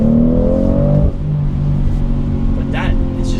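A 2019 BMW X3 M40i engine revs hard in New York City traffic, then settles into a deep rumbling idle with a few brief crackles near the end.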